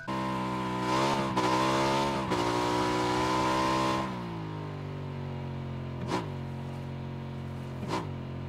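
A motorcycle engine in the PUBG video game drones with a steady harmonic tone that rises in pitch while revving, then drops to a lower hum, with a couple of brief clicks later.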